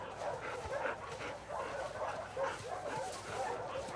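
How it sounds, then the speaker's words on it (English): Dog in The Last of Us Part II video game giving excited, repeated yips and short barks in a steady run of bursts, fairly close but not loud, with no talk over it. "Hey, you crazy dog."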